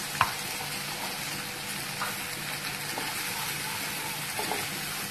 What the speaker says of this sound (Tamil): இது வந்துட்டு லைட்டா நம்ம வதக்கிக்கலாம்.